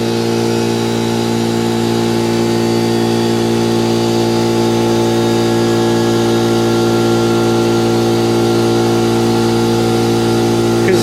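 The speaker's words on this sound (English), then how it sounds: "Turn the compressor back on in case." An air compressor runs steadily through a doorbell server repair, its motor droning loud and constant with a strong tonal hum and no pauses.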